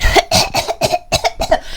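A series of about six sharp, harsh coughs in quick succession, close and loud, with brief gaps between each burst.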